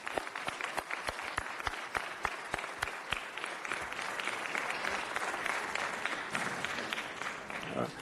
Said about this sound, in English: let's give them all an applause for that